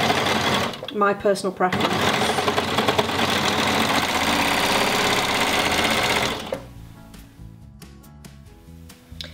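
A sewing machine stitches a baby onesie in a loud, steady run for about six seconds, then stops abruptly, and a person speaks briefly afterward.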